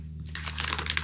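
A sticker foil sheet is handled up close, giving a short burst of crisp crinkling and rustling over a faint steady background hum.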